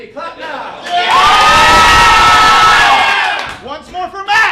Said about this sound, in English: Once more for Candy, clap now.